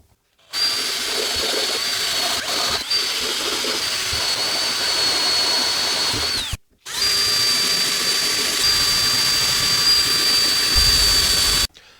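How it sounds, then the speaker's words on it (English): A power drill bores holes in a metal guitar pedal enclosure with a loud, sustained high whine, in two long runs separated by a brief pause. "Okay, so now I've drilled out the holes"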